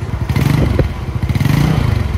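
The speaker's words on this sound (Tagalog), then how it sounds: "Start na natin, kickstart muna sa unang start." A motorcycle engine, freshly refilled with new oil and kickstarted for its first start, runs at a steady, close, loud idle with an even rapid pulsing throughout.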